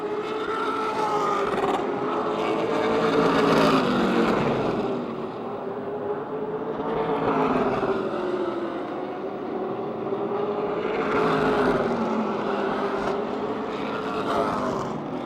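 Race cars circling Motordrome Speedway, a steady engine roar that swells and fades in repeating passes as the pack goes by, loud and continuous with no talking.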